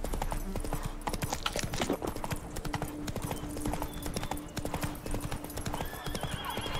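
Roach, a horse in The Witcher 3, gallops with steady rapid clip-clop hoofbeats and a whinny, loud and close over game music and ambience.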